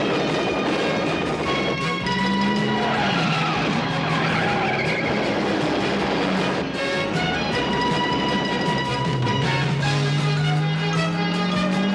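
A car's tires screech and skid loudly as it speeds off hard, a sustained squeal over revving engine noise that stays close and intense throughout.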